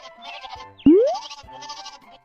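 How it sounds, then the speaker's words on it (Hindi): Cartoon goats bleating in a Hindi animated story, a few quavering harmonic bleats in close succession, then a sharp springy boing-like sweep in the middle, with more bleats after it; no talk. "बकरियों की आवाज तो मुझको भी सुनाई दे रही है"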